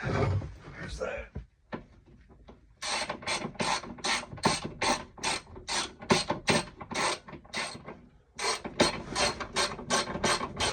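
A ratchet wrench spins a nut onto a bolt drilled through the floor of a Jeep XJ, a fast run of crisp, evenly spaced clicks repeating close by after a brief pause and some handling noise.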